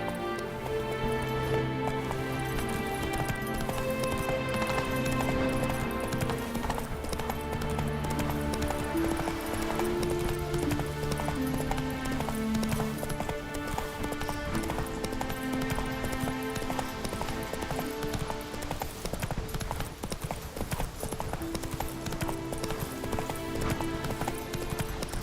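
Roach, a horse in The Witcher 3, gallops in a rapid, steady clip-clop of hooves that carries on throughout over game music and ambience.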